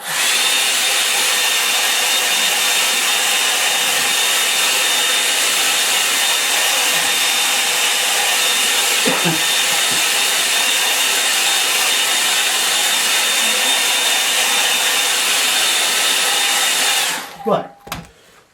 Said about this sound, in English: now I'm going to use the hairdryer on it, so take your headphones off